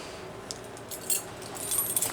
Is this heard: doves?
no